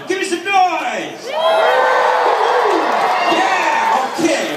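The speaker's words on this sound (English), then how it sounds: "Not hearing enough noise from the crowd. Come on, give me some noise!" Stadium crowd at a Hollywood stunt driver show in Movie World on Australia's Gold Coast cheers and whoops loudly, a brief shout first, then a sustained roar of many voices for several seconds.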